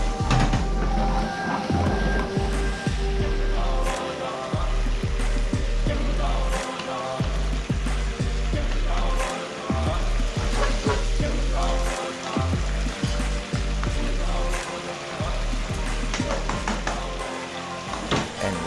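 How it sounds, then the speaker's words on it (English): Minced pork simmering with garlic, tianmianjiang and doubanjiang in a pan, a steady loud sizzle and bubble with intermittent stirring clatter, close up and continuous throughout. "And now you can simmer it further."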